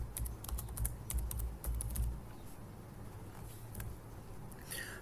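Code being typed on a computer keyboard, a quick scatter of light key clicks, busiest early on and thinning out later, close and fairly quiet over a low room hum.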